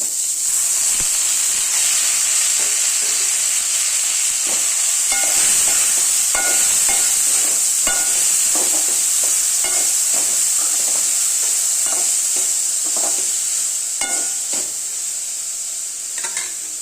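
Boiled cluster beans sizzle steadily in a hot pan, with a loud, continuous frying hiss broken by frequent scrapes and clicks of stirring, close up throughout.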